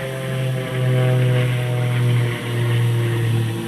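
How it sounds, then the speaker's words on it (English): A droning engine hums steadily with a strong low tone that swells and dips gently, heard while an AI-tracking camera gimbal follows someone outdoors. It fits an airplane passing overhead, close and fairly loud with no talking. "there's an airplane passing by"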